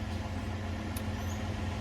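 A semi truck's diesel engine runs at a raised idle to recharge its battery, giving a steady low drone that hums evenly in the background with no other sounds.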